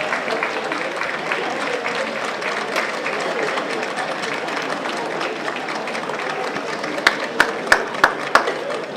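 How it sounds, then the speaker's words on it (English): Audience applause at a university convocation ceremony, a dense, steady clapping from a large crowd filling the hall throughout, with a few sharper, closer claps near the end. "give them a round of applause as a sign of gratitude for all that they have done for you"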